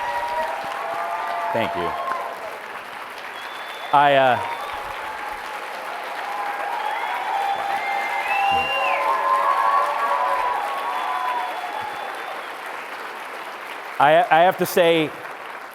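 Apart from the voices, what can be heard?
audience applause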